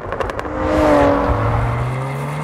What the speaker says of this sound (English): Exhaust is the first thing you notice. You know a car's good when you smile when you just hear the noise.